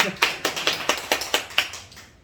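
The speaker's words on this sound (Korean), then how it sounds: "박수 한번 치겠습니다" Clapping from a church congregation during a Sunday worship service, roughly eight or nine distinct, evenly spaced claps in a steady rhythm that fade out toward the end.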